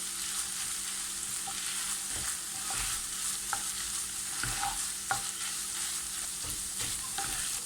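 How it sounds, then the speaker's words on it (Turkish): Minced meat and tomato paste crackle and sizzle in a pan, with occasional scraping stirs of a spoon; no voices. "Salçanın kokusu çıkıncaya kadar güzelce kavuruyorum."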